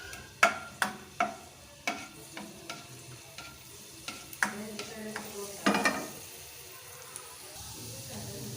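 Chopped onions sizzle in a pan for aloo paratha masala, with a soft frying hiss underneath and a series of sharp spoon-on-pan stirring clacks at irregular intervals, close by.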